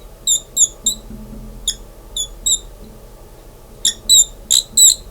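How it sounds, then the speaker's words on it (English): A dying pen squeaks against paper while writing on a board during a physics lecture, giving short high chirping squeaks in uneven bursts, three clusters with pauses between, close and fairly clear over faint room hum. "That is the sound of a pen dying"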